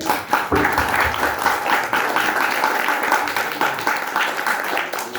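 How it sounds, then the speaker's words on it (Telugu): Parents clap for a Sunday school children's skit, a lively burst of many hands that holds steady for several seconds in a room. "చాలా క్లాప్స్ కొట్టాలి"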